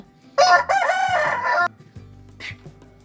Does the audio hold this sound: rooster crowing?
yes